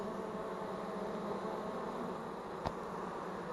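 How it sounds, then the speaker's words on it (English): A steady, faint buzz from straggler bees fanning at the vent hole of a bee box during a bee removal in Fosters, Alabama, a continuous drone with one brief click near the end. "They're actually fanning this vent hole."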